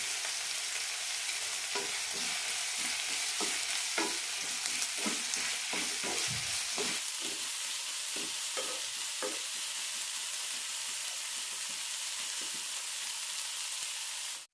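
Onions sauté in a pan with curry leaves and salt for an onion curry, a steady close hiss of frying with intermittent stirring scrapes and clicks throughout and no talk.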